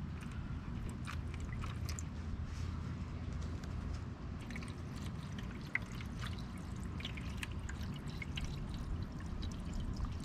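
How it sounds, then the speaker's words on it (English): White vinegar is poured over a stone, a continuous low gurgling pour and trickle with faint fizzing crackles on top, steady and close. "So I completely immerse under vinegar, white vinegar."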